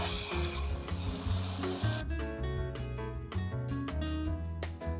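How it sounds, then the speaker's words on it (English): Tomato paste sizzles in a hot frying pan while being stirred in, a steady bright hiss with scraping and soft stirring motions, loud and close, joined partway by background music. "Then we add the tomato paste. And get it all stirred in."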